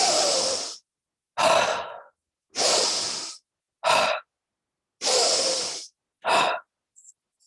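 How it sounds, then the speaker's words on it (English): Six slow, relaxed breaths let out through the mouth after deep nasal inhales, each a breathy whoosh of about a second separated by silence and heard close up. "You just let go and let go of all of your breath through the mouth."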